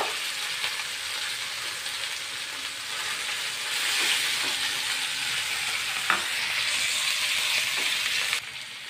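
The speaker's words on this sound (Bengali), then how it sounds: "এখন আমি সিম বাটাটা দিয়ে দিব তেলের মধ্যে।" Mashed flat-bean paste (seem bata) fries in hot oil in a pan with a steady, close sizzle that holds for several seconds, broken by occasional stirring scrapes.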